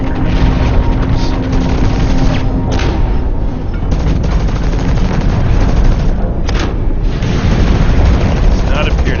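Mech grenade explosions in the video game Hawken boom loud and dense over continuous battle noise, with repeated blasts throughout and a player talking over the gameplay.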